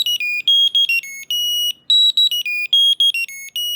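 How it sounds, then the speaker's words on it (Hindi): A JioTag tracker sounds its loud buzzer, a rapid run of shrill electronic beeps that jump between two or three pitches in an uneven stuttering pattern, close and piercing, with a brief gap near the middle. "आप अगर चाहो तो आपकी मोबाइल से एक बटन प्रेस करते ही यहाँ पे ना वो बीप करेगा, and this is very loud."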